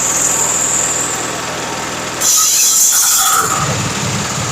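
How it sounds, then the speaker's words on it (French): A GBU 30L drilling rig's large engine runs steadily, then its second motor kicks in with a sudden surge of loud mechanical roar and high whine. "on va actionner le deuxième moteur"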